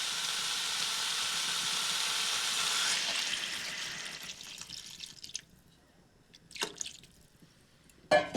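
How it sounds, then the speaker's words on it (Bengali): Water hits fried new potatoes in a hot pan with a loud hissing rush for a few seconds, then the sizzle fades to quiet simmering and a couple of sharp clinks and drips. "এরপর দিয়ে দিচ্ছি পরিমাণ মতো জল, যাতে আলুগুলি ভালো করে সেদ্ধ হয়ে যায়।"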